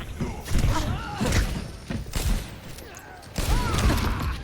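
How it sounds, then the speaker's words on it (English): Rocket Barrage ultimate in Overwatch 2: a run of heavy thuds and explosive impacts in uneven bursts, fairly loud and close, mixed with game effects and occasional voices. "Rocket barrage incoming"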